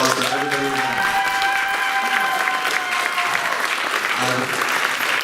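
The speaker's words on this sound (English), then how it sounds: "So big round of applause for everybody." An audience applauds after a high school class senior play of Romeo and Juliet, loud sustained clapping with cheers and voices mixed in, running steadily from start to finish.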